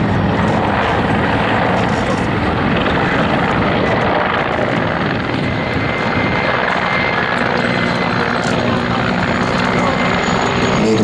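A Mil Mi-24V helicopter in Alien Tiger livery flies an air display, its loud rotor chop and turbine roar sustained and close for the whole stretch.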